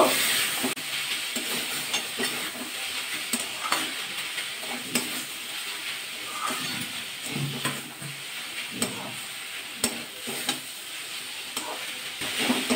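Red amaranth greens cooking in a pan, a soft steady sizzle with intermittent scraping and clinking of a spatula stirring, fairly close and moderate in level, no talking.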